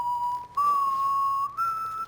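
A guard in Dishonored 2 whistles a short tune of three steady held notes, each slightly higher than the last, clear and close with faint background ambience and no talk.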